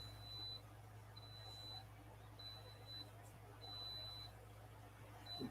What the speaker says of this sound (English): you hear that beep, beep, beep? That means